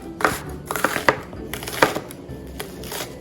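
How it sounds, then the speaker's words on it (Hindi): Onions are sliced finely on a board for beef haleem, a series of crisp, close knife chops in an irregular rhythm, about eight distinct strikes. "इनको आप बारीक बारीक स्लाइस करके आपने इन्हें करना है फ्राई"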